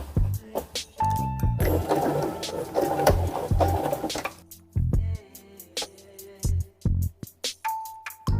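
A sewing machine stitches a slit in a skirt, with short bursts of rapid needle clatter separated by clicks, pauses and handling noises, and a beep at times.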